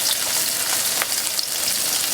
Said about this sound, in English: I'll put the skin down first in the pan